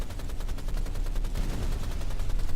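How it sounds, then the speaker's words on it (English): Rapid repeated blasts from a boss firing targeted rockets in the 2013 Rise of the Triad game, a dense, steady stream of loud, close shots with no talk. "So he'll shoot these targeted rockets"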